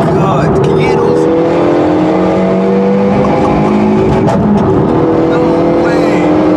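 A stripped-out 300bhp Renault Megane RS with a sports cat downpipe and middle silencer delete, its exhaust roaring loudly and steadily up close. Engine tones rise and fall as it revs, with voices mixed in.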